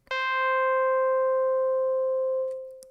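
A single FM synthesizer operator tone for chiptune sounds as one clean, steady, harmonic-rich electronic note, held for about two seconds before fading, alone and fairly quiet.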